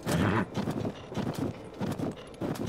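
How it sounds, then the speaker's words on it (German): Golden horse hooves clip-clop in a steady walking rhythm in Zelda: Tears of the Kingdom, a series of soft, close, evenly spaced footfalls. "Zeldas goldenes Pferd"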